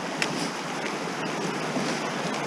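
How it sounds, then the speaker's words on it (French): A mountain stream flowing beside a forest trail in the Alps, a steady broadband rush of water without pause, fairly loud and close on one side. "je profite de la fraîcheur du ruisseau là qui est sur ma gauche"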